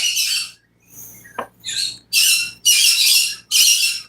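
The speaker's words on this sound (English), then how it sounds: "Please don't mind my birds." Pet birds squawk angrily indoors in a run of loud, harsh, shrill bursts, about six calls separated by brief gaps, up close and with no talk.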